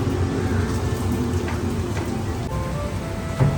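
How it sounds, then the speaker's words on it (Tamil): Heavy rain pours down in Chennai, a dense, steady hiss of drops on surfaces close by, with a faint low rumble of thunder and no voices. "இப்போ வந்து சென்னையில் செம மழை."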